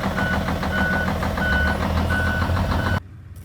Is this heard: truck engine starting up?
yes